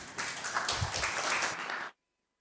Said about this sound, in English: Let's give the round of applause for the team